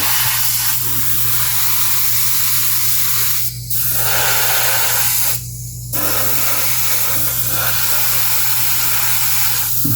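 Lacquer is sprayed onto a quarter-scale Samurai Wolverine model figure in two short, sharp hissing bursts over a constant background hum, the second burst longer and stronger.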